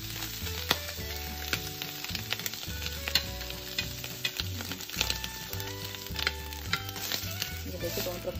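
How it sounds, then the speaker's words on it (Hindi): Paneer pieces frying in a little oil in a pan, with steady sizzling and stirring clatter under light background music, close and moderately loud throughout. "उनको हल्का सा तेल डाल के फ्राई कर लूंगी।"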